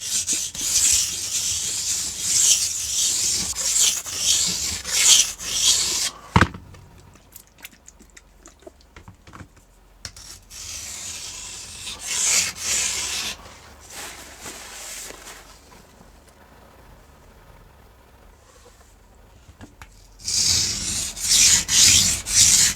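Old Cold Steel Recon Tanto knife blade sharpened on a stone, close rhythmic rasping strokes in bursts separated by quieter pauses.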